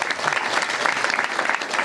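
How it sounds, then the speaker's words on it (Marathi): Audience applause at a kirtan farewell gathering in Pandharpur, dense continuous clapping from many hands, loud and close, with faint voices underneath. "दोन्ही समोरासमोर एकदा टाळ्या वाजवा"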